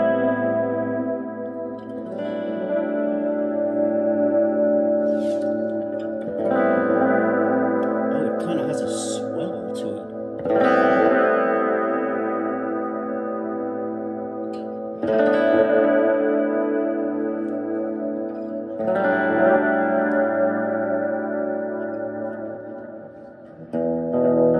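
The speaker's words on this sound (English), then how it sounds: "A little flanger too." Electric guitar played through a flanger effect on a MATRIBOX 2 PRO touch-screen effects unit, ringing chords that swell and sweep with a whooshing, chorused shimmer, struck in phrases every few seconds and sustained loudly with no talk.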